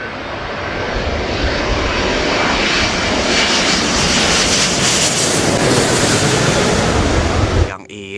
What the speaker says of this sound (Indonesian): ada pesawat Singapore Airlines